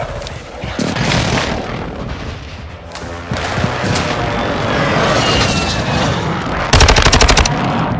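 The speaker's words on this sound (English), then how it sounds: "Friendly precision airstrike inbound." Precision airstrike in Call of Duty Warzone 2 gameplay: a loud, continuous barrage of gunfire and booming blasts with a dense burst of rapid detonations near the end, and some game voice chatter mixed in.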